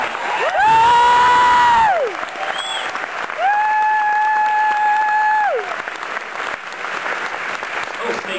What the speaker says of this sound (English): Brian deserves a round of applause, that's for sure.